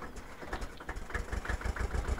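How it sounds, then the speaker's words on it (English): A tractor engine idles in the video game Farming Simulator 2013, a low, rhythmic chugging rumble that holds steady throughout, with no talking. "Get our tractor round."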